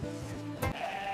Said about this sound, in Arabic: يلا نشوفوا شي خروف يكون زوين